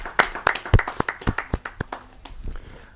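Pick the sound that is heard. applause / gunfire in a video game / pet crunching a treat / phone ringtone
applause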